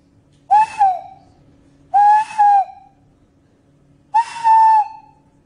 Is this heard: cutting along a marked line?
no